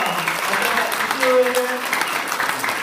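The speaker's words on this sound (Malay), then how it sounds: "Tepuk tangan sikit lah." An audience at a Malay-language weekly meeting in a hall gives light applause, brief clapping heard under and around a speaker's amplified voice.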